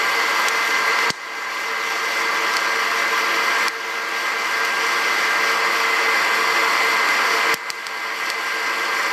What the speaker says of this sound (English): The beans are expanding now as they roast, so that cracking is opening up the beans.